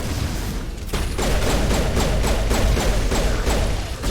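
Rapid repeated shotgun blasts and heavy thuds in the sci-fi horror game Dead Space, loud and dense over a steady rumbling background, with no voices.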